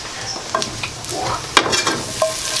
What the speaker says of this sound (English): Just on low heat, just melt this butter.